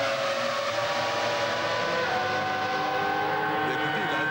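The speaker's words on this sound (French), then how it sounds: "Écoutez son moteur, écoutez." Michael Schumacher's Formula 1 car at the 1996 Spanish Grand Prix, its engine a steady, loud, high-pitched whine with rising harmonic tones held throughout, under a broadcast-style background wash.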